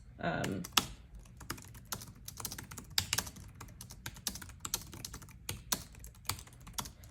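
Steady rapid typing on a Freewrite Traveler keyboard, close and clear, with dense uneven clicks of keys running throughout and no talk.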